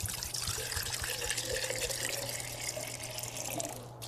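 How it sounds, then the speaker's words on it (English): Tap water runs steadily into clear glass jars, a continuous splashing fill that stays close and even for a few seconds with no voices. "Fill each jar half the way full with water."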